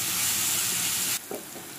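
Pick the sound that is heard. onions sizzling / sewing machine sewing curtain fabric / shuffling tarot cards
onions sizzling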